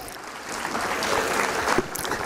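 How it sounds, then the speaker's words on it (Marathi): Audience clapping at a Women's Day event in Pimpri-Chinchwad, a short burst of moderately loud applause from a crowd that holds steady and then thins out. "त्यांच्यासाठी एकदा जोरदार टाळ्या वाजवायच्या सर्वांनी."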